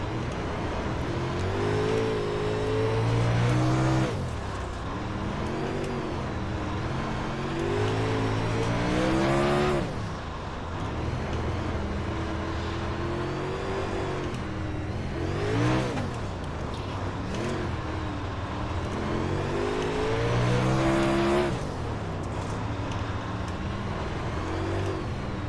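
Late model race cars roar around the Chili Bowl dirt track in iRacing, with engines revving up and easing off in repeated surges through the corners, loud and continuous, with no talk.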